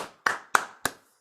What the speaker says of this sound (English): Oh, it's so good to hear you clap.